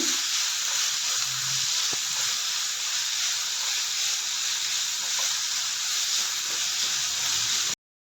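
Sliced onions with salt sauté in a pan for a shakshuka, giving a steady bright sizzle and hiss throughout with a few faint clinks and no talking.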